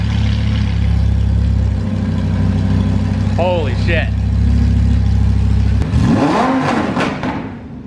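A straight-piped Lamborghini engine idles loudly with a deep, droning exhaust, then revs sharply near the end, climbing and falling in pitch. A man exclaims over it.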